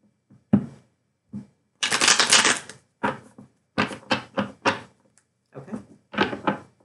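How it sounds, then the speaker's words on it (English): Tarot cards are shuffled in several bursts of quick riffling and flapping, close and crisp, separated by brief silences. "No, one more shuffle."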